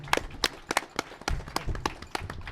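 A small live podcast audience in a garage claps in a sparse round of applause, the hand claps distinct and uneven, with faint voices underneath.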